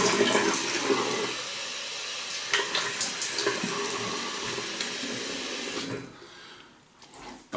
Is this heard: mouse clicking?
no